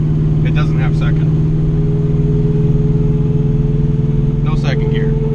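A big block Oldsmobile Cutlass engine drones steadily at close range while driving, its low, even rumble continuous throughout, with brief voices talking over it.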